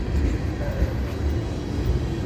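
An FEC freight train with its locomotive passes at night, a heavy low rumble and rolling wheel noise that stays loud and steady for the whole moment, with no talking.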